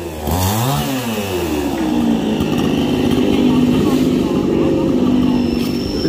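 A chainsaw roars loudly and steadily, its engine pitch rising then holding high as it cuts through a tree branch, with a voice talking faintly underneath.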